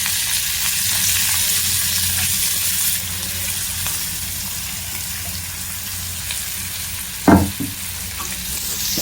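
Fruit and vegetable peels frying in oil in a pan give a continuous close hiss and sizzle, with an occasional soft clink of stirring near the end.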